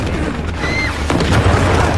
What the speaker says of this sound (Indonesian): Dan tiba-tiba bom itu pun meledak.